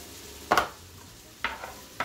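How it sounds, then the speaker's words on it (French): Vegetables and onions go into a pan with a generous drizzle of oil and begin to cook, giving a soft, steady sizzle broken by a few sharp stirring scrapes and clatters close by. "Et on va faire revenir les légumes dans un premier temps."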